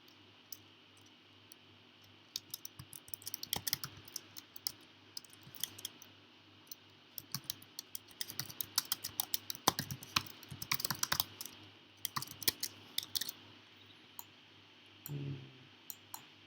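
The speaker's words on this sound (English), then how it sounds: "let's type for the event description" Quiet, close keystrokes tap on a computer keyboard in irregular bursts that speed up into dense clicking, with short pauses between.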